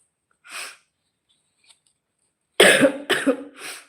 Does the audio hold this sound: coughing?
yes